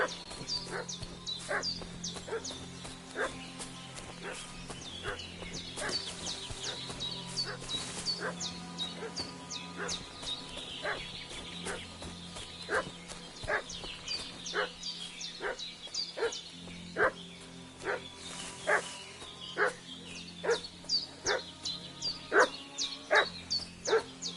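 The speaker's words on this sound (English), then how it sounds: "What's that dog making such a fuss about?" A dog barks repeatedly in the medieval game Kingdom Come: Deliverance 2, sharp evenly spaced barks continuing for the whole stretch over a quiet outdoor ambience with faint birds, growing more insistent toward the end.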